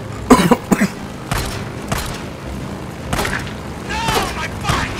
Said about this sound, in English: Fire my sidearm.